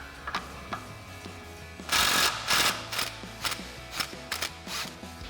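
A ratchet works on the rear differential mounting bolt of a 2007–2021 Toyota Tundra during a suspension lift install, giving close clicking pawl runs broken by bursts of louder metallic rattling and rapid clicks.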